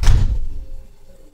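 A household freezer door shuts with one loud close thud that fades quickly into quiet.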